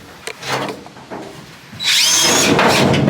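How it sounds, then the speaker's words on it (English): A power drill whines up to speed and bites through thin, rust-eaten car body metal with a loud, high grinding screech after some brief handling noises. "So I'm just going to drill a hole over here."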